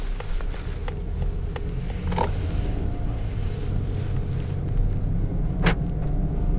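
A Mazda3 with a 1500cc engine pulls away smoothly on a residential street, giving a steady, low cabin hum with faint creaks and one sharp click near the end.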